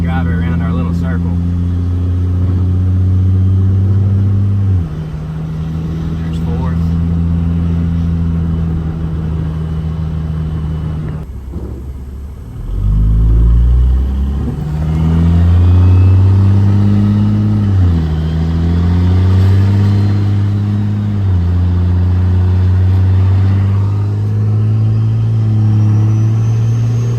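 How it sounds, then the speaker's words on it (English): A car running again after major engine failure drives slowly on a test drive, its engine droning loud and close with several rises and drops in pitch as it accelerates and shifts. "let's go take this thing on a test drive"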